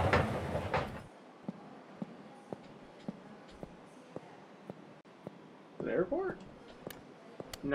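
A subway train passes with a regular clickety-clack of sharp rail knocks, fairly faint and steady, and people talk briefly at the start and near the end.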